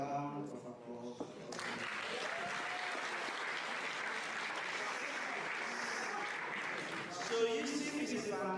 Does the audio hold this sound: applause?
yes